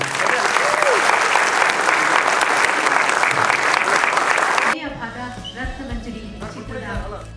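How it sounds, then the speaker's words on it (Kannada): Dense, sustained applause from an audience at a Kannada film's audio launch event, loud and continuous for several seconds before dropping abruptly to a quieter hall with scattered claps and murmuring voices. "ದೊಡ್ಡದಾಗಿ ಮನಸ್ಸು ತುಂಬ ಚಪ್ಪಾಳೆ ತಗ್ಬಿಟ್ರೆ"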